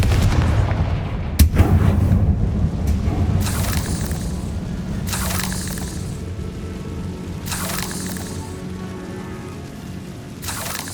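A Confringo blast spell fires in Hogwarts Legacy inside the Feldcroft catacombs, opening with a sharp crack and rolling low rumbling booms, followed by several whooshing bursts over a dense, rain-like crackle of debris.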